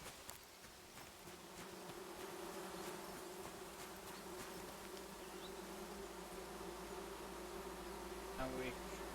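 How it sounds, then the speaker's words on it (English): Bees buzz in the video game Among Trees, a steady, faint insect drone that holds for several seconds over soft game ambience, with no talking. "Oh, and the bees are still around."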